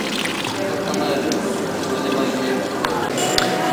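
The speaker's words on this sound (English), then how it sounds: "I've managed now after 2 or 3 minutes to fill up my 2 bottles" Hot spring water runs steadily into bottles with a continuous splashing hiss and gurgle, close and loud throughout, with a faint mechanical click near the end.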